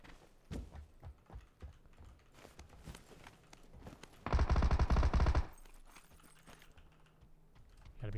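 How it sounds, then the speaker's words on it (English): Rapid gunfire from a Mini 14 rifle in the PUBG video game, a dense loud burst of about a second standing out midway, with scattered clicks and softer shots around it. "Sounds like someone was rapid firing a Mini 14 or something."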